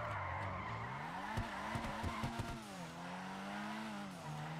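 A drift car in GTA Online sliding and skidding, with a steady engine drone shifting in pitch as it revs, broken by several sharp tire squeals and scrapes in the middle, all heard at moderate distance.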